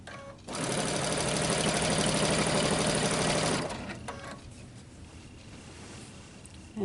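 A sewing machine stitches binding onto a quilt in one loud, fast, steady whir lasting about three seconds, then stops, leaving faint handling noises and quiet background.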